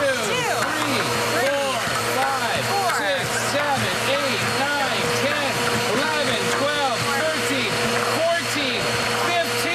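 A Shark Rotator vacuum cleaner runs with a loud, steady motor whine as it sucks up pool balls, which rattle and clatter through it in rapid, repeated knocks over the full stretch.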